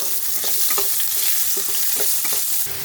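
Chopped onions frying in a wok with a bay leaf and a whole chilli for a satin fish curry, a steady close sizzle with repeated scraping stirs every half second or so, no talking.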